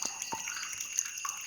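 Water drips while being collected, a few scattered light plinks over a steady high background whine, quiet and close.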